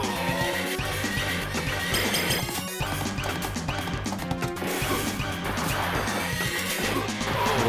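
A horse neighs inside a Konami arcade game, buried in dense, loud game audio of crashes, hits and continuous music with no quiet gaps.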